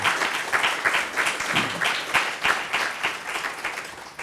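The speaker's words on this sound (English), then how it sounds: "I just want to give them another round of applause" Audience applause after a round of thanks at a faith community gathering, steady dense clapping from a crowd lasting the whole stretch, fairly loud and close with no voices over it.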